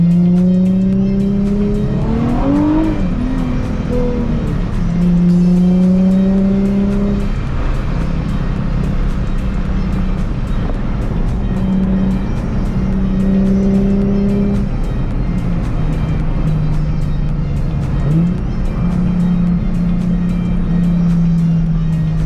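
A Nissan 350Z cruises along a rainy canyon road, its engine droning loud and close with rising and falling revs as it shifts through gears, over a steady wash of tire and road noise.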